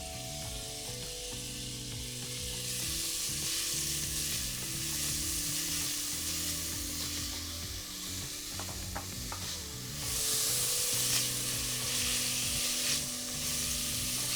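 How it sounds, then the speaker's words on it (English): Onions sautéing in a hot pan, a continuous bright sizzle close up with occasional scraping stirs and clacks of a utensil, louder bursts when the pan is stirred, no talking and a low hum underneath. "I'm gonna go ahead with adding the onions at this point"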